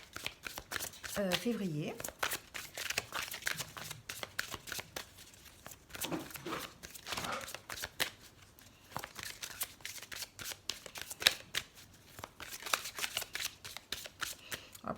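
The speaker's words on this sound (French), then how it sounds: "on va tirer la petite carte pour les Verseaux" Oracle cards are shuffled and drawn by hand in a rapid, close, papery riffling that keeps recurring while a voice talks throughout.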